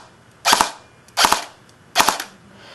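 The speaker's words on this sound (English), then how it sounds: "I'm going to just hit the trigger switch, see if it works." Three short bursts of fire from an A&K M249 airsoft gun being test fired after gearbox reassembly, each burst a rapid cluster of sharp cracks, evenly spaced and loud in a quiet room.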